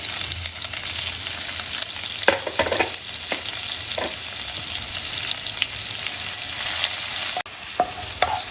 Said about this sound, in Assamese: এতিয়া পিঁয়াজখিনি ভজা প্ৰায় হৈ গৈছে